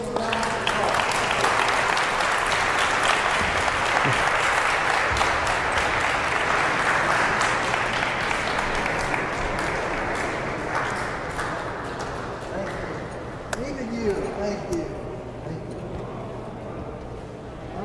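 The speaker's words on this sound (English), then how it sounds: "You give them a round of applause" A large audience applauds players at a FIBA coaches' clinic, sustained dense clapping that fills the room and gradually thins and softens toward the end, with a few louder individual claps standing out.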